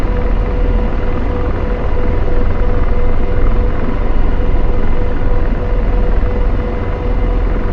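AH-64D Apache helicopter in the DCS flight simulator, a loud constant engine and rotor roar with deep rumble, steady and dense from start to finish, no voices.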